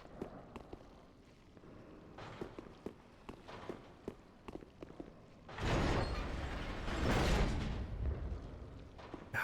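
An armored character clunking along in Dark Souls III, a series of heavy metallic footfalls at an uneven walking pace, followed by a louder, rougher burst of clattering movement near the end.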